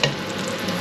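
Homemade fishcakes fry two at a time in hot oil, giving a close, steady crackling sizzle throughout the brief moment.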